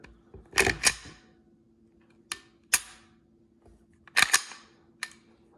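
A pistol's trigger reset clicking close up: crisp metallic snaps spaced over a few seconds, some in quick pairs, each sharp with a short ringing tail in a quiet room.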